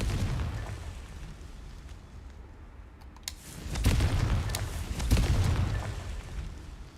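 Booming blasts from the Confringo fire spell in the Hogwarts Legacy video game: several heavy explosive bursts, loudest in the second half, over low rumbling background without talk.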